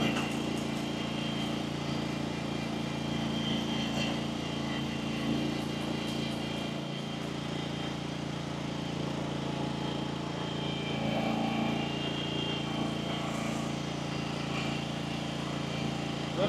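A Honda-powered Terra-Spray AWDS-700 sprayer, a 2024 all-wheel-drive and all-wheel-steer unit with a 70-gallon tank, drives along with a steady, even engine drone that stays close and constant for the whole stretch, with no speech.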